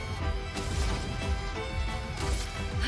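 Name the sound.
ice shattering attack in video game Clair Obscur: Expedition 33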